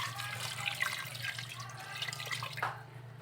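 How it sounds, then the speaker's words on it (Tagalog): Water being poured into a pressure cooker holding milkfish (bangus) for sinaing, a steady continuous pouring wash of moderate loudness that tapers off near the end, with no talk. "Tapos, lagyan na po natin ng tubig."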